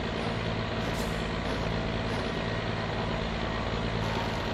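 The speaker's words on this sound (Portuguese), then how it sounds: "Tem que andar um pouco com o caminhão" A heavy truck in the driving game My Summer Car rumbles steadily up close, its engine drone filling the whole stretch at an even, loud level with no talk over it.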